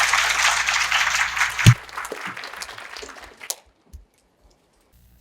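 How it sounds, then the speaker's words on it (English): Audience applause following a presentation on the economic outlook in Asia, a dense burst of clapping that stops abruptly partway through, followed by scattered faint claps and near silence. "Let's give once again a big round of applause for Mr. Breuer"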